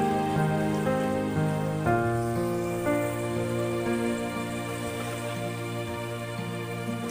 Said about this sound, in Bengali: আলুগুলো আমি ভেজে নিচ্ছি আর অল্প একটু আমি আলুতে হলুদ দিয়ে দিয়েছি।